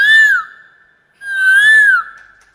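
A performer's voice imitates a cuckoo, giving two long clear whistled calls that rise and fall, separated by a short pause, loud and close with no talk.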